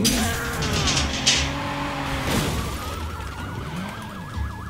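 A police siren in a video game swells in and settles into a rapid wailing warble, fairly close, over low engine rumble and scattered clatter.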